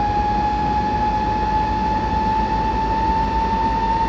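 A BR 146 electric locomotive pulls away in Train Simulator 2017, a steady loud motor whine with a sustained tone over continuous rolling rumble and no talking.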